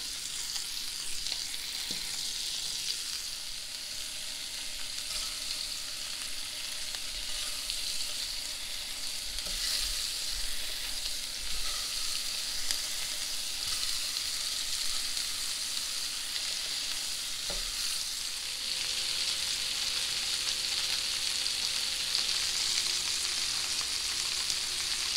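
Swedish meatballs frying in a pan at medium heat, a long, steady, fairly soft sizzle with faint occasional clicks, close by and without talking.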